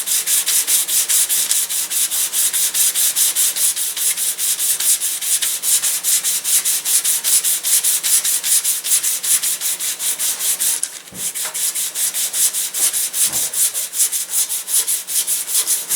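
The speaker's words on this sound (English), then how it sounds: "with the stab, you don't want to sand everything quite as crazy thin, but you do want to sand it down" Steady, continuous sanding of the stabilizer on a catapult glider: a close, loud, even rasping rub that barely changes for the whole stretch, with only a brief pause near the end.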